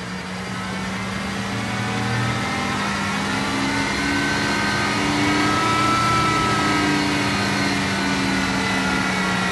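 A tractor engine revs and accelerates while pulling a Mzuri Pro-Till seed drill through a field, a steady loud drone with harmonic tones that rise slightly in pitch. No one speaks.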